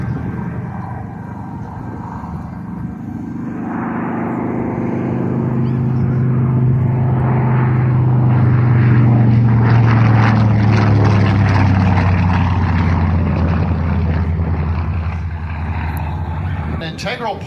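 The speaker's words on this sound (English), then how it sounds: "showing us a little bit of the maneuverability of the Dauntless" A World War II Douglas Dauntless Navy dive bomber flies and maneuvers overhead. Its loud, steady propeller-engine drone swells and fades as it banks, with a continuous roar filling the sky.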